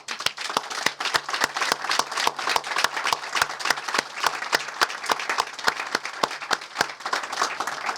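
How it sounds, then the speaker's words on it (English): Crowd applause at the outdoor dedication of Seven Bends State Park in Virginia, with sustained, dense clapping from a gathered audience that holds steady from start to finish. "And I think we all deserve a round of applause."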